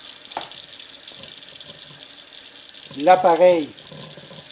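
Tap water runs into a sink to rinse a rotary cheese grater, a soft steady trickle under someone speaking French, with a brief splash of clattering near the end.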